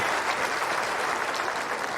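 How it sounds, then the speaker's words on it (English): Sustained applause from a large tennis crowd at the US Open in New York, a dense, steady roar of clapping hands filling the stands with no pauses. "Crowd getting behind Hijikata"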